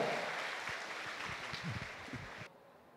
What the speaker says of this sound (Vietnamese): Xin mời các con một tràng vỗ tay thật dài, thật rộng rã